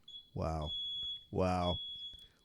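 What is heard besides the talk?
smoke detector beeping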